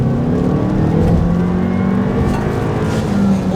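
A Stage 1 VW Alltrack accelerates hard in second gear, heard from inside the cabin as a loud, steady engine drone that climbs in revs throughout.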